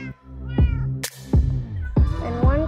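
A cat in the video game Minecraft meows four times in quick succession, loud and close, with a slight voice nearby.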